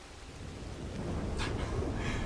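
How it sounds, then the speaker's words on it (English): Heavy rain and rolling thunder in the video game Red Dead Redemption 2, a dense steady downpour with a deep low rumble building toward the end, no voices. "It's pissing down with rain, looks absolutely freezing"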